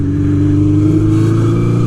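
A Honda CB 750 café racer motorcycle engine runs loud and close with a steady, throbbing mid-pitched drone, holding a fairly even rev throughout.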